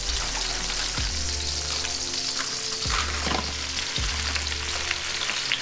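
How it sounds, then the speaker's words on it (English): Frozen vegetables, a California medley of broccoli, carrot and cauliflower, sizzling and frying in a hot pan for chicken lo mein, a constant loud hiss with a few stirring scrapes and clunks. "we're gonna go ahead and add a bag of frozen vegetables"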